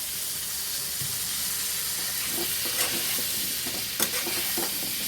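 Potatoes seasoned with salt, turmeric and chilli hiss steadily in moderately hot oil, a dense continuous sizzle with a few soft stirring knocks and spatters; no voices.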